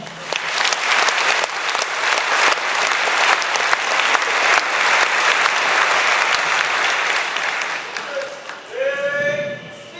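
A graduation audience at a maritime academy ceremony claps for marine engineering graduates, a dense sustained round of applause that tapers off near the end as other sounds come in.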